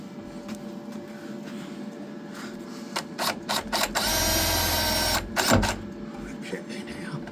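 A drill drives a self-tapping screw into metal during repair work with tacking and welding, a steady whirring burst of about a second over shop noise, with clicks before and after and people talking nearby.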